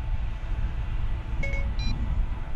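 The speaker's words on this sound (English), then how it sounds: "Oh, my phone just kicked on." Phone's Siri activation beep, a short two-part electronic chime sounding once over steady outdoor background noise, with no talk.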